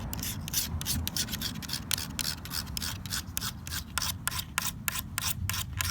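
A stiletto knife blade is drawn repeatedly across a carbide sharpener, giving a steady rasping scrape with regular strokes, close and moderately loud, with no talking.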